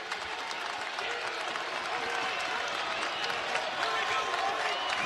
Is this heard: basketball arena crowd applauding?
yes